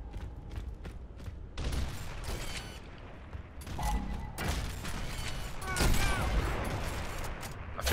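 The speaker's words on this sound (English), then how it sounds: "The new gunshot sounds so fucking good." Gunfire from Gears of War Ultimate Edition crackles in loud, dense bursts of sharp shots mixed with mechanical clanks and rattles, close and continuous throughout, without speech.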